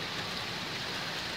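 Steady rain falls on a West Coast day, a continuous even hiss of drops with no breaks and no voices over it.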